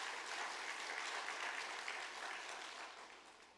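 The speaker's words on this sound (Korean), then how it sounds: "한번 일어나 주시면 우리가 박수랑 많이 하겠습니다." A church congregation at a Korean Sunday worship service claps in steady, dense applause that fades slightly toward the end.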